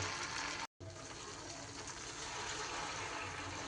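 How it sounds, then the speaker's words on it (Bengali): Water pours steadily into a pot of potatoes, a continuous close rushing gush broken by a brief pause near the start, then resuming without talk. "এবার আমি এখানে জল অ্যাড করে দিই"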